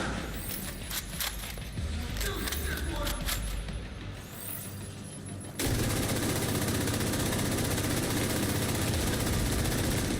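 Gunfire rings out in the shooter game The Division 2. Rapid bursts of shots come early, then give way to a loud, steady roaring wash, with a player talking over it.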